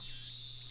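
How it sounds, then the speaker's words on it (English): Loud, steady cicada drone from a summer shrine scene in the visual novel Amatsutsumi, a continuous high-pitched buzz filling the short clip with no pauses and no talking. "The cicadas are quite loud."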